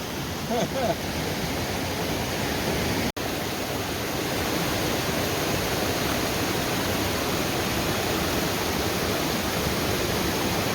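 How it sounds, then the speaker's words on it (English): A backcountry creek on Forney Creek pours in a constant, close roar during a backpacking crossing, with a short sharp knock early on and a faint voice near the start. "Another creek crossing."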